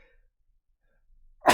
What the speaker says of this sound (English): That was a sudden sneeze coming on there.